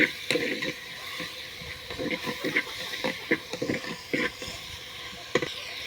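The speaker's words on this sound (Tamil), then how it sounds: "தக்காளி அரிஞ்சிருக்கு இதையும் போட்டுக்கலாம் இது நல்லா வதங்கணும்" Chopped tomatoes sautéing in a pan for country chicken rasam, stirred with repeated scraping and clattering strokes over a soft sizzle, close and moderately loud, with no talking.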